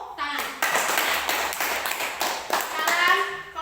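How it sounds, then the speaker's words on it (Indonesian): Children in a classroom clap together, a dense, lively burst of many small hands with some rhythmic accents, heard close and fairly loud, with children's voices mixed in. "Sekali lagi tepuk tangan."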